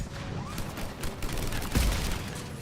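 Turret gunfire in Mass Effect 3 crackles as a dense, sustained burst of rapid shots, with one heavier thump near the middle, all mixed with game background noise.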